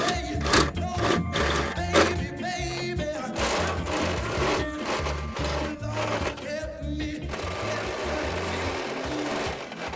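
A hole saw cutting through the sheet metal of a car trunk on an Integra, a steady loud whirring grind with stuttering bites and a sustained high rasp toward the end.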